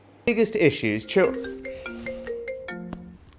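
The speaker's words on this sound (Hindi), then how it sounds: "बार बार फ़ोन की घंटी बजने से" A phone ringtone chimes in a short melodic pattern of bright tones, with someone speaking over its opening.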